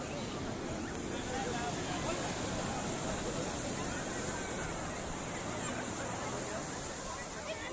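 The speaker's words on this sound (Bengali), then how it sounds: "এই যে সমুদ্রের যে ঢেউ আছড়ে আছড়ে পড়ছে, দেখতেই পাচ্ছেন" Sea waves crash on the shore as a continuous broadband roar of surf, steady and moderately loud without distinct breaks between waves.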